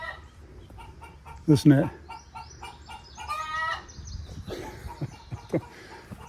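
Backyard hens cluck and cackle loudly after laying an egg, a burst of squawks rising and falling in short bursts, close by, with a person briefly speaking over them.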